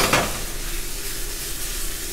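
Garlic, ginger and other aromatics sautéing in a pan for pork ribs in tausi, a bright, hissing sizzle up close with a brief stirring scrape at the start, steady and alone.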